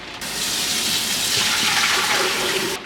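Eighteen cups of water poured into a pot for tripled boxed mac and cheese, a loud, close, steady gushing pour that starts and stops abruptly, no talk.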